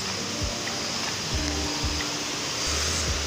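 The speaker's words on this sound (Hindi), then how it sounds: "इतने मज़े की आवाज़ है पानी की" Water flowing near a lake in Ayub National Park, a continuous rushing wash close by, with faint low thumps underneath and no voices.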